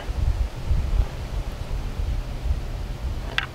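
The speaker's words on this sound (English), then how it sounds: "It's pretty windy." Wind gusts buffet the microphone in low rumbling bursts, with a faint rustle of leaves in the background, outdoors during a Wisconsin deer hunt in the rut.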